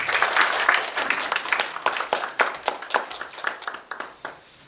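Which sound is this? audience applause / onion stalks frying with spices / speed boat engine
audience applause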